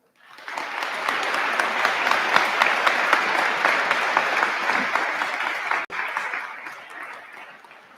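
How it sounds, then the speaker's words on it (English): An audience at a school Veterans Day program in Sheboygan County breaks into loud, dense applause that builds quickly, holds steady for several seconds, then tapers off, with a brief cut near the end. "Please join me in a round of applause for his work in planning this event"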